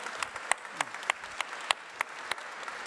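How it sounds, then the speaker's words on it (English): Applause at a live fireside-chat tech conference on AI networks, a soft wash of many hands with a few sharper claps standing out at irregular moments, moderately distant and steady for a few seconds. "Let's a round of applause there."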